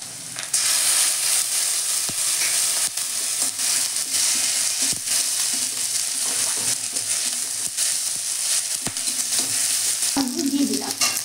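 Ginger garlic paste hitting hot oil starts a sudden loud sizzle that holds steady and bright, broken by several sharp clicks of a spoon, close by with no voices.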